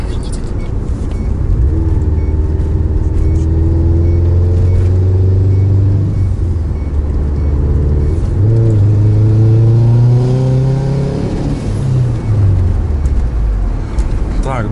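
A vehicle engine hums steadily while driving on an icy road, revving up and down in a few swells, with the low drone close and constant under occasional voices.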